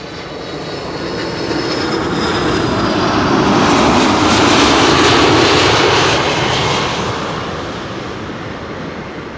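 A KLM Airbus A330 jet arriving at Schiphol, its loud engine roar swelling as it approaches overhead, peaking midway, then slowly fading as it passes, with no voices.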